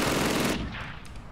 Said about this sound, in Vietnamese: Xả mấy chục viên một trong vòng một giây á.